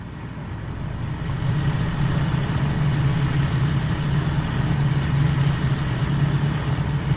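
Ford Trimotor radial engines in the Tukan flight simulator, a steady low droning rumble with a strong bass hum, continuous and fairly loud, fading in over the first second and holding level with no speech.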